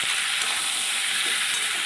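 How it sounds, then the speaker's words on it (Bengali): Vegetables with salt, turmeric and green chillies sizzling steadily in a hot pan as they are stirred, a dense continuous hiss close by with no voices. "এবার ভালো করে নেড়ে নেব"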